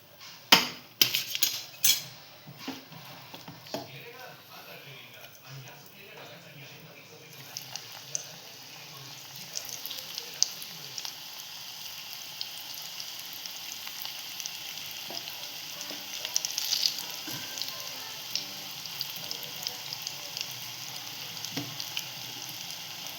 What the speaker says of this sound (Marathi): ह्यांना पण आपण फ्राय करून घेऊया.